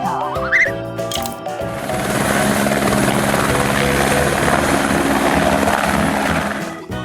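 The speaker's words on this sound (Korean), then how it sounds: "Helicopter." A helicopter's rotor and engine whir loudly and continuously, rising in after a brief opening and holding a dense, steady drone close by until it cuts off near the end.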